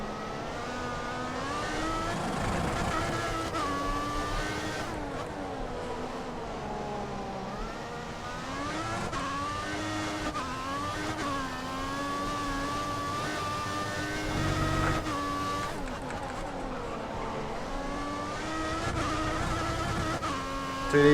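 A Formula 1 race car in the F1 2014 video game, its engine screaming at high pitch and rising and falling continuously through gear changes and corners for the whole stretch, with no talking.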